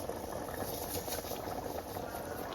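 A pot of water at a vigorous rolling boil while making chicken dum biryani, with dense continuous bubbling and popping close by, steady and moderately quiet, with no voices.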